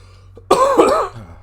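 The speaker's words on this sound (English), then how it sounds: "My apologies for the coughing." A single harsh, throaty cough up close, lasting about half a second over a low steady hum, followed by a faint trailing breath.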